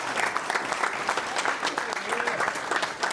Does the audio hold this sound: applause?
yes